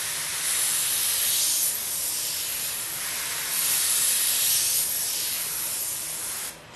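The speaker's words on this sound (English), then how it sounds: "Air on, start moving the airbrush, start applying paint." Airbrush spraying paint in dagger strokes, a steady close airy hiss that swells and eases in several long passes before cutting off sharply near the end.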